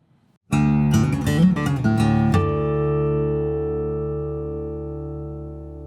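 A bright Larrivée Baker-T Pro T-style electric guitar strums several chords, then lets one ring out and slowly fade, clean and close with no voices.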